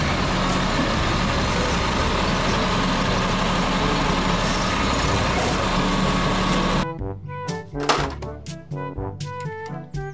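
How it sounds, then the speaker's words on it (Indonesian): A garbage truck engine rumbles steadily and loudly for about seven seconds, then gives way to a run of clanks and short tonal hits. "Mobil, truk, sampah."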